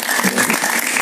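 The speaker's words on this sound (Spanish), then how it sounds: "Un aplauso para él, por favor." A television studio audience bursts into applause to welcome a guest writer, a loud, dense wash of clapping over a brief moment with no voices.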